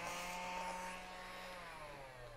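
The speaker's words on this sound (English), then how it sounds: "Ooh, this is in the kit too, this little vacuum." A small handheld vacuum from a drawing kit whirs steadily and close, a continuous motor hum with a faint whine that eases slightly toward the end.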